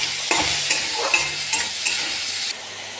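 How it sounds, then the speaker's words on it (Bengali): Salted, turmeric-coated shrimp sizzle in a small amount of hot oil in a pan, a close, steady crackling hiss broken by scraping stirs, with a sudden drop in the frying noise near the end. "চিংড়ি মাছ ভাজা হয়ে গেছে,"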